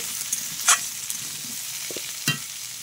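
Vegetables for a Malabar spinach ghonto frying in a pan, a soft continuous sizzle punctuated by a few brief stirring clinks and scrapes, no voices.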